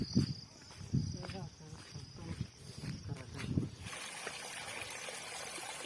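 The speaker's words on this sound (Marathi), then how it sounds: "पाणी बू पडलाय त्याच्यानं खळखळ उरलंय पाणी" Rainwater gurgles and trickles along a stream after a downpour; someone talks over it at first, then the soft, steady flowing water continues alone.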